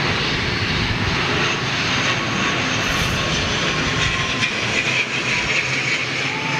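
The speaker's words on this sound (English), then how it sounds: "there's a little ATR 72 coming in with a stubby little nose on it" An ATR 72 turboprop comes in to land, its propellers going into reverse: a loud, steady roar of engine and rushing air that holds unbroken for several seconds.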